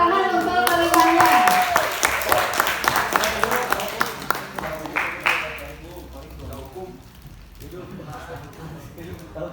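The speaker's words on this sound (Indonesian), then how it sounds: "Tepuk tangan untuk penerimanya." A seminar audience breaks into applause, a burst of dense clapping that thins into scattered claps and fades out, with voices talking over and after it.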